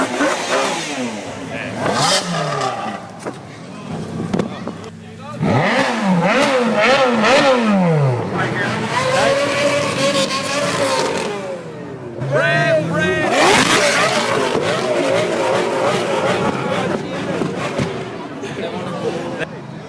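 Several car engines rev loudly in bursts at the Cannonball Run 2011 event, with rising and falling harmonic sweeps layered over a busy crowd, people shouting and talking throughout.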